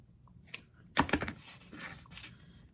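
Scissors cutting a piece of cheesecloth, a few quick crisp snips followed by soft rustling of the fabric, close and quiet.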